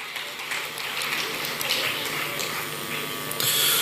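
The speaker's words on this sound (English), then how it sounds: "Please help me say a very big thank you to him with applause." An awards-ceremony audience at the Ghana Energy Awards applauds, a dense, steady wash of clapping that holds for several seconds and swells louder near the end.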